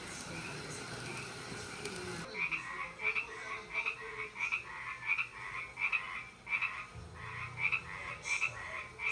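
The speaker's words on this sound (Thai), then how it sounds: "มีแต่กบกับเขียดห้องยามกลางคืน" Frogs and toads croak at night in a garden setting, a steady chorus of repeated rhythmic calls at moderate distance over a continuous insect-like hum.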